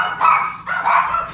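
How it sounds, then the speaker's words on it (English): Dogs barking near a door as someone arrives home, two loud close barks in quick succession with a slightly whiny tone. "So that's what the barking is, you guys."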